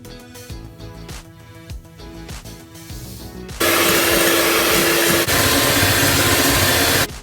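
A mixer froths egg whites with sugar, starting with uneven clattering beats, then switching abruptly to a loud, steady high-speed whir that runs to the end, with no talking.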